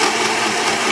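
A blender grinds walnuts into a milkshake smoothie, a steady, loud whirring roar with a gritty pounding texture throughout, running alone without pause.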